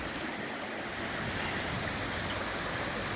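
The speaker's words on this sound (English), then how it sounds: "You should be able to hear the running water as well." Floodwater of Indian Creek rushes under a road, a steady, loud broadband roar of running water that never lets up, with no voices.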